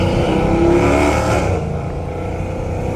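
A Dodge Challenger Hellcat Redeye V8 roars loud and close in Los Angeles, a steady heavy rumble with a rising rev swell early on, then settling back to a droning idle-like growl.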